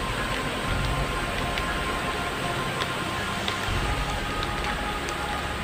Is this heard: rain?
yes